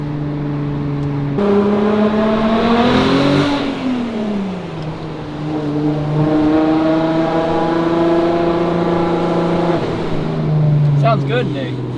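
A 2000s-era VW MK4 R32 with upgraded cams and stock catback exhaust pulls hard on a highway, its engine droning and rising through several gear changes with a strong, rich tone heard from inside the cabin, while people talk over it.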